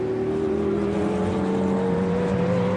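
GT race car nearing the second chicane at Monza during a Blancpain Endurance Series round, a steady, gradually rising engine note heard from a distance, fairly faint and unbroken, with no talk.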